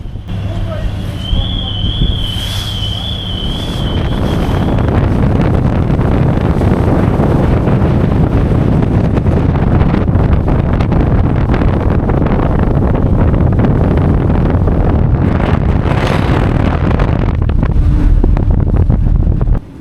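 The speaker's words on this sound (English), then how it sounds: "there is something magical about being on a Calmac ferry" Strong wind buffets the open deck of a Calmac ferry crossing the Firth of Clyde from Wemyss Bay toward Bute, a loud, steady roar with water and engine rumble beneath it throughout.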